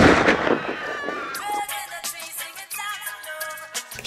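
Gunshot sound effects fire within a reggae track, a loud burst of sharp cracks and bangs at the start, then scattered pops and hits over the music and a sung tone.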